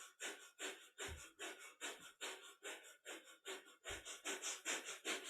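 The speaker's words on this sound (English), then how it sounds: "So it's our panting breath through the nose as we raise the legs up and drop them back down." Breath of fire in a kundalini yoga practice: rapid, rhythmic panting exhales through the nose, about two per second, steady and close, with no talking.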